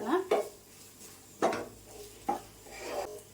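Scraping and stirring of coconut roasting in a pan with a soft sizzle underneath, a few sharper scrapes of a spoon against metal at intervals.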